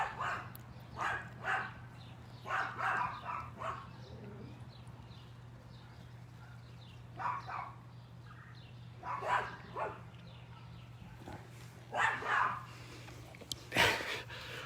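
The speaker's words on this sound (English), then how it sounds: "Who's barking?" Several dogs, including Bolt and a couple of loud neighbouring dogs, bark in short scattered bursts over about fifteen seconds, sounding some distance away over a steady low hum.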